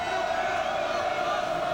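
Steady arena crowd murmur at a Purdue Boilermakers vs Illinois men's college basketball game, a continuous dense wash of many voices at moderate level with no distinct cheer bursts.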